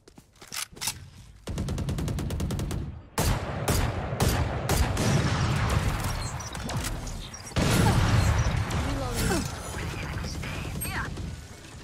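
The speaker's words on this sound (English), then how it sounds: "Swarm grenade out." A swarm grenade in the game Valorant goes off amid a dense run of rapid popping bursts and mechanical clatter, loud and sustained, with several sharp blasts layered over continuous rattling; in-game voice lines can be heard under it.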